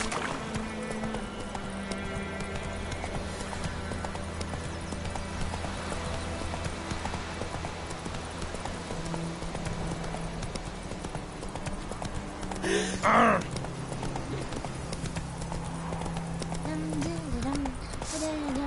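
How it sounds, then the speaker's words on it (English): Hooves clip-clop steadily from a horse in The Witcher 3 video game, running under game music and ambience with a short whinny-like burst midway. "Whoa there, Roach"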